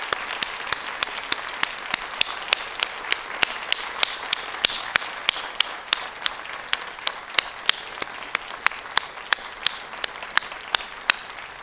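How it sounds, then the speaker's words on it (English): Sustained applause fills a convocation hall as the audience rises in a standing ovation, a dense wash of many hands clapping steadily, with sharper individual claps popping out near the microphone throughout. "That was a standing ovation for you guys"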